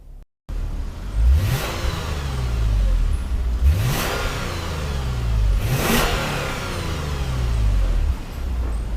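A 2017 Lexus RC 300 AWD F-Sport V6 revs repeatedly toward about 5,000 RPM, three loud, close rising sweeps falling back between them over a steady engine drone, with no talking.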